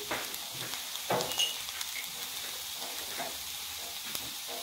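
Potatoes and minced meat frying in a pan, a soft, steady sizzle at low level, broken by a few light scrapes and knocks of stirring, no talking.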